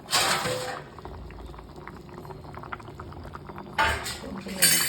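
Thick fish curry bubbles in a clay pot after the flame is switched off, close and busy popping with louder bursts of bubbling at the start and end.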